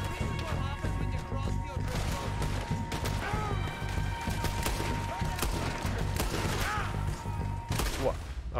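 Gunfire in Red Dead Redemption 2 during a gang shootout, repeated loud shots and cracks in a busy, continuous barrage over game sound and music.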